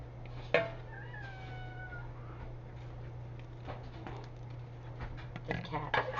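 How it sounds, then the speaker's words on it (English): A cat meows a few times in a homestead kitchen, fairly faint under a steady hum, with clinks of dishes and some background voices toward the end. "This cat."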